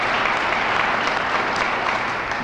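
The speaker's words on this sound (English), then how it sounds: "how about a round of applause for ARC of Indiana for all that they do" An audience at the Arc Training Hotel announcement in Muncie, Indiana gives a steady round of applause, a dense, continuous wash of many hands clapping at even loudness throughout, with no voices on top.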